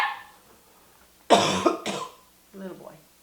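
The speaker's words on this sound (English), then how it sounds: "I'm sorry about the coughing." A man coughs in a short harsh burst of two loud hacks, followed a moment later by a brief voiced throat sound, heard close and indoors.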